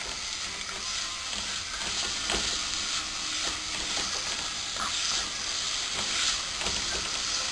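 Chayotes frying in hot butter with a splash of oil, a dense, continuous sizzle with crackling pops and a faint hiss, steady and close throughout.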